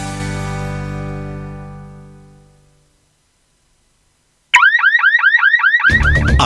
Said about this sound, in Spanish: Ahora sí, una alarma a la medida de su propiedad.